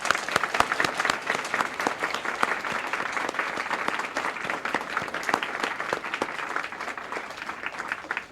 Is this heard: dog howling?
no